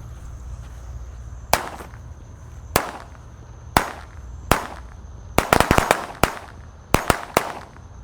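XXL green Corsair firecrackers from an 18-piece pack going off outdoors, sharp loud bangs at first spaced a second apart, then a rapid cluster of cracks and a few more scattered pops, with no talking.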